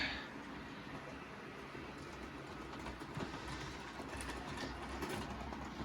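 An HO scale Walthers GP9 model locomotive in Ontario Northland livery runs along its track, giving a steady, close, low rumbling whir with faint rail clicks throughout and no talk.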